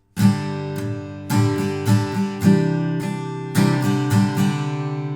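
Steady strumming of acoustic guitar chords, bright and close, with a rhythmic pattern of down and up strokes that let the chords ring.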